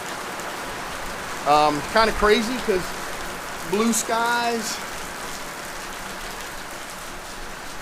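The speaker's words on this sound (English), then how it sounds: "it is raining out here" Steady rain patters on outdoor surfaces as a continuous hiss during North Carolina weather, with someone talking over it for a few seconds.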